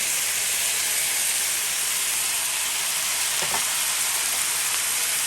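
Roasted eggplant and tomatoes hitting a hot pan for Guyanese baigan choka, a loud, dense, hissing sizzle that holds steady throughout, with one brief low thump near the middle.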